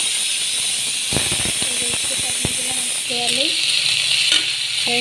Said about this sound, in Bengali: তেলটা গরম হয়ে গেছে, তেজপাতা দিয়ে দিলাম, একটু পাঁচ ফোড়ন দিলাম, আর কাঁচা লঙ্কা দিলাম